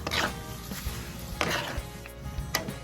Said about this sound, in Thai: ตอนนี้ก็หมั่นพลิกไปพลิกมาหน่อยนะคะ ใบกะเพราจะได้สุกทั่วถึงกันค่ะ